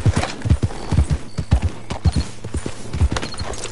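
Horse hooves clip-clop in the Red Dead Redemption 2 video game, a brisk, regular walking rhythm of close, crisp knocks that keeps a steady beat throughout, with a faint voice in the background.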